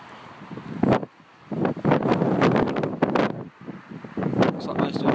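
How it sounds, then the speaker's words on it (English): Gusty wind buffets the microphone outdoors by a large airship hangar, loud rushing bursts rising and falling over a few seconds. "A bit of windy weather still."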